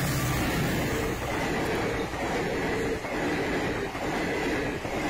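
A train makes a speed trial run on the newly doubled Rosa–Sitapur–Burhwal rail section, giving a loud, steady rumbling roar with rhythmic wheel clatter throughout and no voices.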